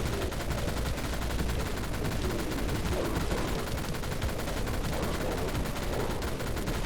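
A minigun fires in the video game Dead Frontier, a dense, unbroken stream of rapid gunfire at steady loudness that runs through the whole stretch without any pause.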